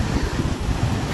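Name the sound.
sea water flooding over a road during Hurricane Melissa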